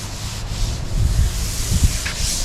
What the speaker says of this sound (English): Had to sand a little bit more there.